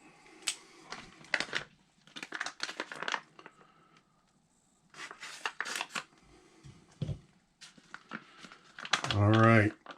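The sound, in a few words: cutting open a Canadian MRE pouch with scissors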